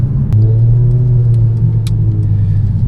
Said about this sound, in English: listen if I drop a gear. Yeah, it sort of blips it for you.